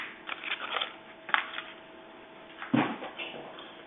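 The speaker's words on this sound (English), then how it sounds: "We forgot to remove the last bit of the packaging, so we'll go ahead and do that now." Plastic packaging being pulled and torn off a Z100 during assembly, with crinkling rustles and a few sharper crackles and scrapes, close and fairly quiet.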